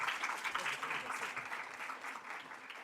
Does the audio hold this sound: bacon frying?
no